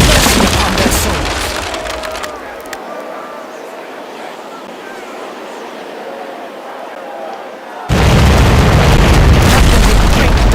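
Bow chaser cannons firing from a ship in the naval video game Commander Conquest of the Americas: a loud splintering boom at the start, a quieter stretch, then another heavy blast and roar near the end.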